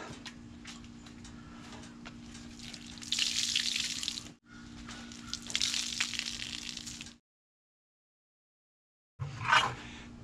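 Water sloshes and splashes out of a tire into a bucket in two bursts of pouring with a short break between them, then silence, then one last brief splash.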